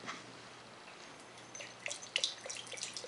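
Supercooled water pours from an opened bottle in a thin, trickling stream with small splashing drips that build toward the end, quiet and close with no talking.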